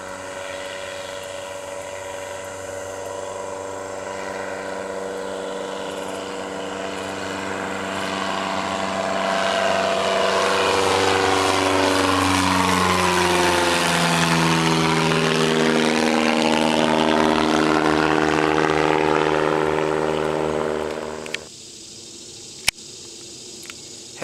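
A Piper Cherokee light single-engine propeller plane on a solo touch-and-go at Collegedale runway 21 drones loudly, its engine pitch sweeping as it passes close by, then cutting off abruptly near the end, followed by a few sharp clicks.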